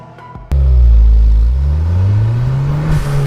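Ford Fiesta ST with a 1.6-litre EcoBoost engine, 182 hp, starts up and revs hard, a loud close rumble surging then holding a steady high idle-rev, no talk.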